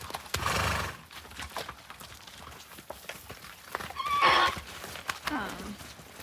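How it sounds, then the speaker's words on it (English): A draft horse with severe tendinitis in one leg whinnies loudly in a rescue pen as hooves clip-clop, with brief neighs and scattered hoof steps among background voices. "We have a draft horse that has very, very severe tendinitis."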